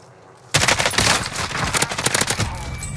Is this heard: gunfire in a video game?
yes